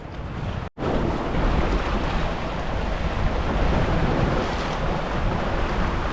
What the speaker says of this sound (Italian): vediamo le onde infrangersi al largo